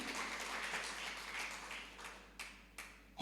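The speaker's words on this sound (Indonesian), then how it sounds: "Kasih tepuk tangan bagi Tuhan." Scattered applause from a church congregation during a Sunday worship service, fairly soft and steady, tapering off into a few isolated claps near the end.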